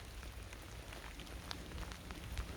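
Rain falls steadily during a morning school run, a faint, even patter with scattered drops tapping on a surface and no voices.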